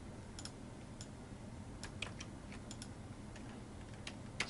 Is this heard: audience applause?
no